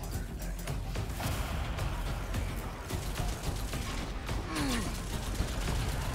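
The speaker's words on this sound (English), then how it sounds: "He just shot me through the wall" Gunfire in the retro shooter Scathe, rapid sharp shots hammering through a wall amid dense mechanical game noise, continuous and fairly loud with a few distinct cracks standing out.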